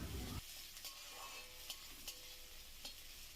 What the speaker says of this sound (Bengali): পেঁয়াজটা কিছুক্ষণ ভেজে নিতে হবে।